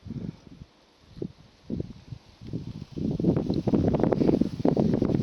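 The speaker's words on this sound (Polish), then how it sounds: "wiatr wieje i nie pozwala zdjęcia zrobić dobrego." Wind buffets the microphone in low, rumbling gusts, growing steadier and louder in the second half with rustling texture.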